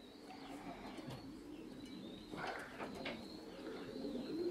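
Racing pigeons cooing at their loft as birds return from a race flight, with soft steady coos and occasional wing flaps over a continuous outdoor background, moderately near.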